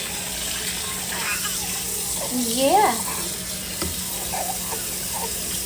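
Tap water runs steadily into a kitchen sink being filled for a baby's bath, a soft continuous wash under a brief spoken word and a voice.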